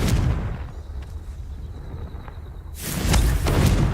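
Confringo fire spell going off in Hogwarts Legacy: loud booming blasts with rumbling thumps, a brief quieter stretch with a thin whine, then another heavy burst of explosive noise.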